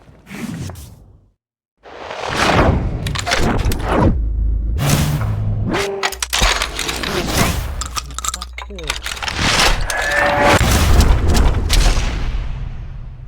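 Several heavy shotgun blasts from the Western shooter Call of Juarez, a Whitney 10-gauge, come in separated booming bursts amid whooshes and game effects, with a voice narrating over parts.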